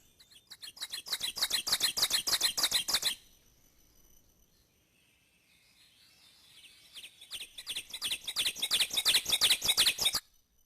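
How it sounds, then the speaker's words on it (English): Ovenbird song, a loud ringing teacher-teacher-teacher series rising in intensity, heard twice with a quiet gap in between where faint distant birds call. "So that song is Teacher, Teacher, Teacher."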